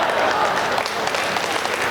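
Steady applause from an audience at a Hindi comedy poetry show, a dense continuous clapping that fills the whole moment at moderate loudness with a faint murmur of crowd voices underneath.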